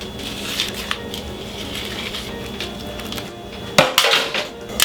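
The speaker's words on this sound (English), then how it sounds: "And our tray can go back in the oven." A metal baking tray of Dijon mustard toast clatters as it goes back into the oven, with soft kitchen handling noises, then a sharp, louder metallic clunk and rattle near the end, close by.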